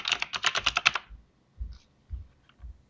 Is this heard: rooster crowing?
no